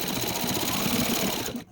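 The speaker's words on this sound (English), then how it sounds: "So I'm sewing right over the line that I already sewed." A sewing machine stitches straight over an existing seam on a scrappy quilt, running as a steady, close mechanical whirr with fine rapid needle rhythm for well over a second before stopping abruptly.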